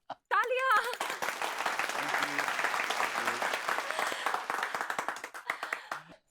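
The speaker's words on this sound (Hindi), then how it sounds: "तालियां।" A burst of brisk, lively applause in a sitcom scene follows a short spoken line, holding steady for several seconds before tapering to a few scattered claps.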